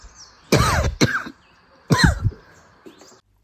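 A person coughs near a misty lake in Uganda, with two close pairs of harsh coughs separated by a short pause, loud and clear against quiet outdoor ambience.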